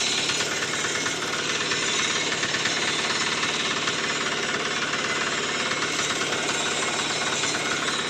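An iron-wheeled tractor engine runs at high revs, a loud, dense, continuous hammering clatter that holds steady without pause from start to finish.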